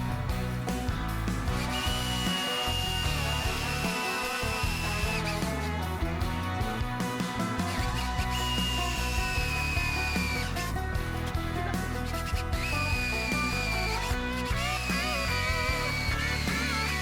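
An electric drill bores an oil drain hole in a Harley-Davidson Shovelhead oil pump case with cutting fluid, whining steadily and continuously nearby, its pitch shifting as the bit loads and eases.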